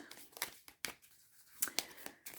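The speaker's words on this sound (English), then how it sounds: "I'm going to give these a shuffle and see what jumps out for you" Ganesha oracle cards being shuffled by hand, a quiet run of crisp papery slaps and riffles in irregular bursts, close up, with no talking.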